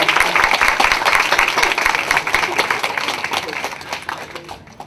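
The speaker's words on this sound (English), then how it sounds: "Give me a big clap." An audience claps and applauds at a breast cancer survivor's talk, a dense sustained round of clapping that fades slightly toward the end.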